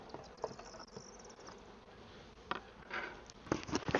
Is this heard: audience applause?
no